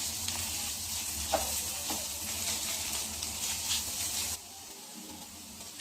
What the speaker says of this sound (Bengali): নেড়ে চেড়ে একটু ভেজে নিচ্ছি